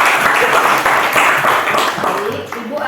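A school class giving applause: steady, close clapping from a roomful of students, dense and continuous through the whole moment, with voices mixed in.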